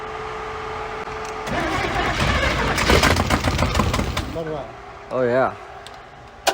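A V8-swapped 1972 Mazda B1600 pickup cranks over and catches, its engine rumbling loud and close, settling briefly, then revving again, with a person speaking over it.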